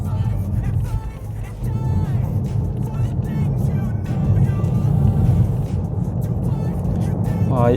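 A Peugeot 308 plug-in hybrid accelerates on a highway, with a smooth, steady hum and road noise from inside the cabin, a rising whine at the end, and a voice talking over it.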